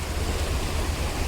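Sea waves surging at high tide on the shore of Madh Island in Mumbai, a continuous close rumbling wash of surf with steady loudness and no voices.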